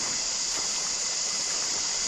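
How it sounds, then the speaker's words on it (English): Brisbane River water rushes steadily past and under a log near a riverbank during a canoe trip, a constant close hissing wash with no pauses and no voices. "So you can see the water sweeps down around under this log here"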